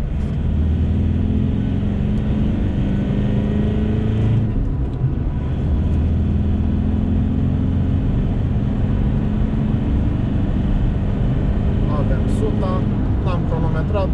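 A Ford Ranger pickup's engine pulls under acceleration with a steady, loud drone heard from inside the cabin, and someone talks over it throughout.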